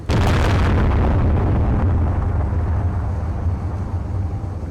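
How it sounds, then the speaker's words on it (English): Massed bomb warheads from a B-29 Superfortress explode in the Space Engineers video game, a loud, deep boom that rumbles heavily and slowly fades over several seconds. "I just love that bang that comes with so many warheads"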